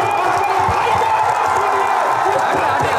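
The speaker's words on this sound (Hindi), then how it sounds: "एक बार तालियों से धन्यवाद दीजिए।" A rally crowd in Kudari, Kaimur, Bihar claps and cheers at a political gathering, a dense, loud, continuous wash of applause and voices with scattered shouts throughout.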